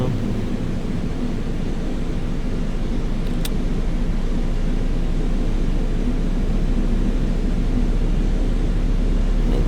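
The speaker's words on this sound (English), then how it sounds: "And we'll go ahead and start engine 1 now." Boeing 777 engine one spooling up at start in Microsoft Flight Simulator 2020, a steady loud broadband rumble and whoosh holding evenly throughout with one brief click partway through.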